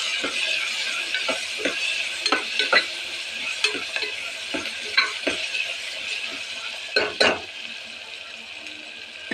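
Spoon scraping and stirring an ivy gourd curry with spices in a pan over steady sizzling, with irregular clinks and scrapes against the metal throughout and no talking.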